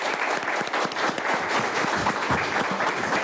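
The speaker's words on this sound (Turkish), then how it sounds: "Kuvvetli alkışlarınızla alkışlıyorsunuz." Audience applauding at a Turkish local political gathering, dense continuous clapping from a crowd, steady and fairly loud with no pauses, as if filling a hall.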